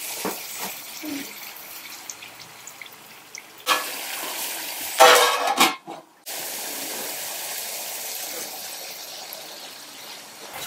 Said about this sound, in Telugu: ఇప్పుడు మనం దీన్ని ఆయిల్లో కొద్దిసేపు ఫ్రై చేసేద్దామండి